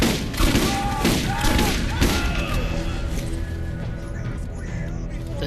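Shotgun blasts in Borderlands with the Pandora Reimagined mod: several loud booming shots land in the first two seconds amid dense game noise and effects, then the fire tails off into a rumbling clatter.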